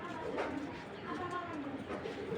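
Hong Kong racing pigeon, Chinese-bloodline stock kept in a Bangladeshi loft, cooing in low rolling murmurs under a voice talking close by.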